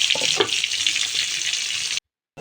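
Rice flour pitha batter sizzling on a hot, oil-brushed pan on the stove, a steady close hiss and crackle that cuts off abruptly near the end before briefly returning.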